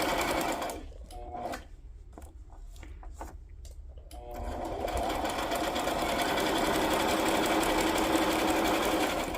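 A sewing machine runs a zigzag stitch on a glassine wax-paper journal pouch, starting with a few short stop-start bursts, then running steadily and loudly through the second half of the clip.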